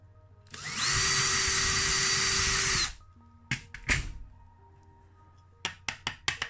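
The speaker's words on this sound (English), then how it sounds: "we'll drill this out" A power drill whines steadily for about two seconds, then short bursts of drilling and knocking follow, close and loud, drilling into a die-cast Matchbox model car.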